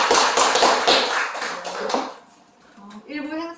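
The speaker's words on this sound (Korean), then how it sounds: "다시 한번 큰 박수 부탁드립니다" Audience applause at an indoor community lecture event: a dense, loud burst of clapping for about two seconds that fades out, followed by a voice speaking.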